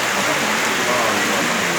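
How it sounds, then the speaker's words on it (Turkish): Steady rain falls outdoors during a Turkish bridal gift-tray gathering, a dense, continuous hiss of drops close by with no break. "Güzel yağmur yağmur."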